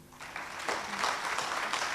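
Audience applause at a Hindi poetry recital, a dense steady wash of clapping that swells after a quiet start and stays fairly loud for the rest of the short stretch.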